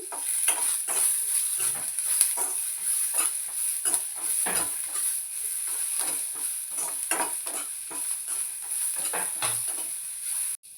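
Dried red chillies fry in a hot pan with a steady, close sizzle and hiss, broken by repeated stirring scrapes and clinks throughout; no one speaks.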